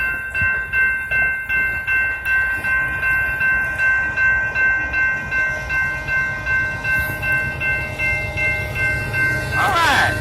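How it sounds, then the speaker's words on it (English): A BNSF freight train races westbound at night past a railroad crossing at a junction, giving a loud, steady rolling rumble with rhythmic wheel clatter and sustained horn tones. "We have a train coming on down the track going westbound, crossing Ormandy's junctions."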